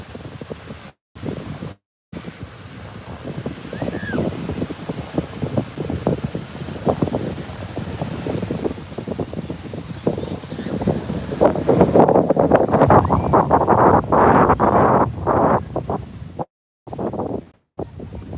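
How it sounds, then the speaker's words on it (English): Strong gusting wind at a beach in Playa del Carmen, Mexico, at sunrise roars and buffets the microphone in loud surges with brief dropouts, no voices over it. "it's just uncharacteristically windy for this time of year"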